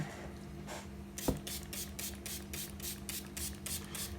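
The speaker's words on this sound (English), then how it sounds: "I'm going to spray the whole plant again" A spray bottle hisses in a quick series of short bursts over an orchid plant, about a dozen pumps in a steady rhythm, close by with a faint background hum.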